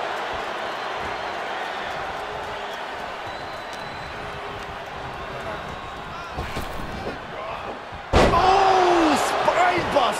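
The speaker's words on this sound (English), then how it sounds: "And a slam. The amount of force behind that is enough to knock a normal person out." A heavy body slam lands loudly in a WWE 2K23 wrestling match near the end, a sharp thudding impact after commentary and arena crowd noise.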